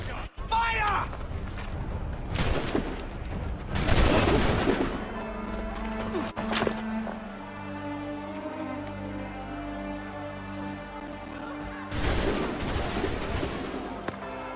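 Musket volleys ring out in the video game Assassin's Creed III, with bursts of massed gunfire near the start and again near the end, and in-game voices and ambient noise between the shots.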